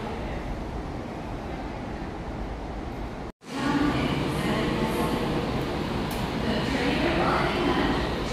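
A steady rumble of a train carriage in Japan, loud and continuous, with a sudden brief cutout partway through before the rolling noise resumes.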